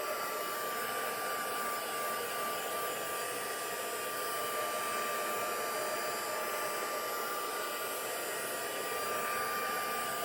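A hair dryer blows steadily on a mixed media artwork to dry it, a constant loud whooshing hiss with a fixed motor whine, running alone without any talk.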